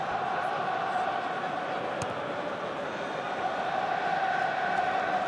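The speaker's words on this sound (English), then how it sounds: "It's only the French you can hear singing" French rugby supporters sing in a stadium as a steady, distant crowd roar, a continuous wash of massed voices with no break.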